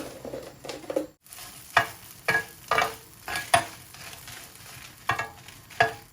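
Green chilies fry in a pan with a soft sizzle, punctuated by sharp, rhythmic scrapes and clatters of stirring roughly every half second, close by and with no one talking.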